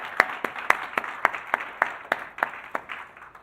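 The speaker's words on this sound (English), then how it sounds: "Yes, a round of applause." Sparse clapping from a small group at a business event in a Sandton hotel: about a dozen crisp, evenly spaced claps in a steady rhythm that thin out toward the end.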